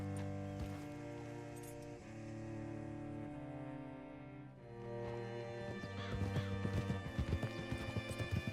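Horse hooves clop in Red Dead Redemption 2 beneath sustained game music. A quick rhythmic run of hoofbeats grows louder toward the end, and a faint whinny-like sound mixes in.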